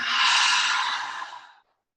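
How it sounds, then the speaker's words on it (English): A loud, breathy exhale during a morning yoga breathing session, pushed forcefully out in one long rush that lasts about a second and a half before fading to silence. "Big inhale through your nose. Loud, noisy exhale."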